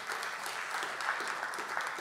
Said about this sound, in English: One more round of applause for Manoj.